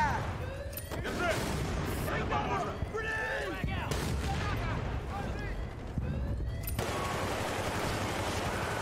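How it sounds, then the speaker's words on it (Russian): Planted charge detonating in Battlefield: Bad Company on PS3, heavy blasts and crackling gunfire rumbling through a loud battle mix, with a sharp burst near the end and game voices calling out. "Заряд установлен! Взрываю!"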